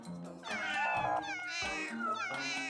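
A cat meows repeatedly in a run of drawn-out, wavering cries, close and loud, one call following another with little pause.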